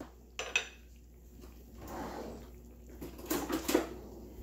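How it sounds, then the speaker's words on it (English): Sausage going into a pot of boiling sauce for homemade Italian lasagna, with a few close metallic clinks and knocks followed by soft splashing and bubbling that builds toward the end. "so now I'm going to add my sausage to it"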